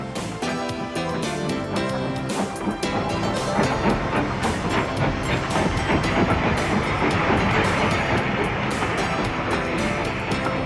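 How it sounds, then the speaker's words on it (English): A train passing on a heritage steam railway line climbing towards Oakworth Station, heard as a steady, loud rumble with rhythmic clatter and broad noise throughout, no talk over it. "As the train passes, tokens are exchanged between the signalman and engineer."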